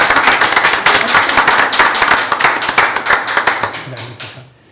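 Attendees at a transit board of directors meeting clap together, a loud burst of sharp, uneven hand claps close by that thins out and fades near the end, with a voice briefly under it.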